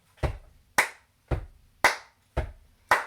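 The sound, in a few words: choir doing a stamp-clap rhythm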